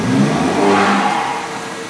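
A Honda Civic FN1 with pops-and-bangs tuning revs hard as the driver floors the pedal, a loud, steady mid-pitched engine roar held for about two seconds before easing slightly, with no talking.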